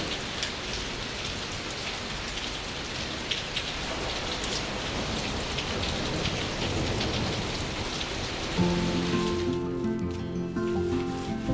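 Heavy rain pours steadily and loudly on a campsite at a sea fishing spot in Korea, a dense continuous hiss of drops on surfaces, with faint tonal sounds entering near the end.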